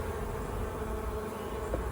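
A dense, steady hum of many honey bees buzzing close by at a Bailey comb hive during a comb change, continuous and even throughout.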